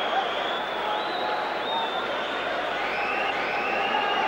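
A boxing arena crowd at Joe Calzaghe vs Chris Eubank applauds in a steady, distant wash of clapping and murmuring that holds evenly throughout.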